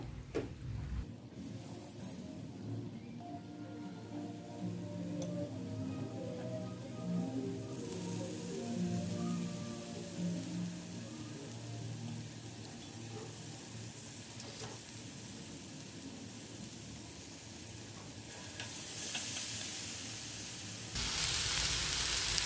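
Eggplant frying in a pan alongside meat hisses with a quiet, continuous sizzle that builds into slightly stronger bursts toward the end.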